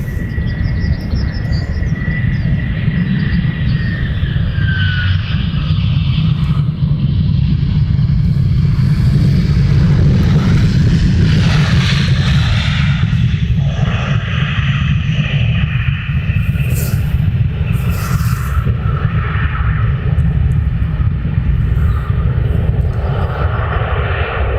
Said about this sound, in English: So we have an EasyJet landing.